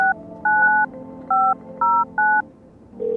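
Telephone keypad dialing tones in the video game No, I'm Not A Human: five crisp, evenly spaced beeps over a quiet ambient hum, ending in a longer tone.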